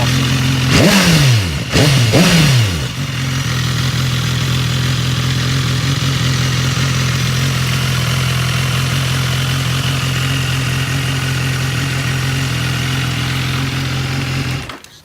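A motorcycle engine blips its throttle twice in quick revs, then settles into a steady, loud, close idle that runs unbroken until it cuts off at the very end.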